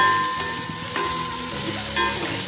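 Green beans roasting in oil in a pan, giving a loud, steady sizzle and frying hiss throughout, with occasional scraping from stirring, close up and without talking.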